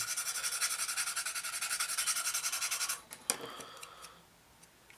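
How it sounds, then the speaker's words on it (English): Rapid, rhythmic rasping strokes of a fine sanding stick on a plastic 1/48 scale model aircraft part, close and steady for about three seconds, followed by a few light clicks and handling noises. "Right, sanding sticks."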